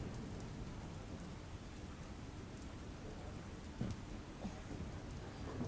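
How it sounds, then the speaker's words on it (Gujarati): Steady rain falls across Surat city, a dense even hiss with scattered louder drops and a few sharp splashes near the end, no voices. "સાર્વત્રિક વરસાદ પડી રહ્યો છે"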